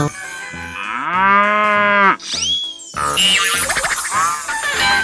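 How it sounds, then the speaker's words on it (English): A cartoon cow in a 3D animal slide video game gives one long, loud, drawn-out moo, followed by springy boing effects and bright game music. "Cow."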